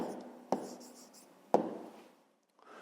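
A pen or pencil writing out the answer to a fifth-grade math exercise on paper, quiet close scratching strokes with two sharp taps, no talking.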